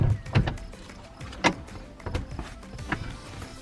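A seat in a converted Peugeot Boxer camper van is swivelled around, producing a few close mechanical clunks and creaking shifts spread unevenly over a few seconds, with quiet rustling between them.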